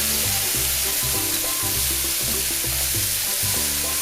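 Lobster with garlic and ginger frying in a hot pan, a loud, steady sizzle with stirring, over background music.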